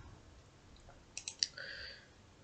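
A short burst of quiet, crisp key clicks on a computer keyboard as a website address is entered, a few taps clustered together in a near-silent room.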